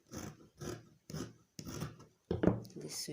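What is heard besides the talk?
trimming gele fabric with scissors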